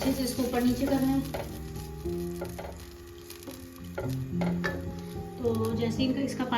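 Rice stirred in a pot for a Pakistani-style tomato dish, a steady sizzling cook with soft scraping and occasional light clinks of the spoon against the pot, close and continuous.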